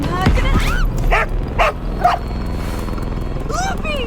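A dog yips, barks and whimpers in the horror game Enigma of Fear, several short high cries in bursts over a steady low ambient drone, with voices talking around them.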